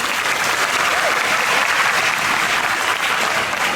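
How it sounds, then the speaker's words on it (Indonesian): Steady, loud applause from a university lecture audience fills the hall, continuous and dense throughout as the crowd claps for an honoured guest. "Berdiri, ini kasih tepuk tangan."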